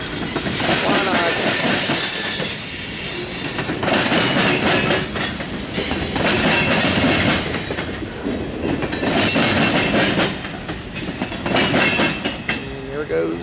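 CSX freight train Q463-14 rolls past close by, a loud steady rumble of wheels on rail with rhythmic clickety-clack and occasional squeal, continuous throughout.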